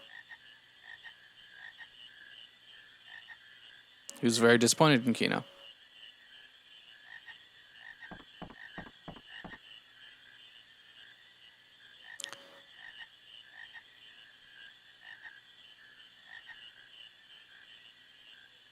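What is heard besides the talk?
frog croaking in Final Fantasy IX video game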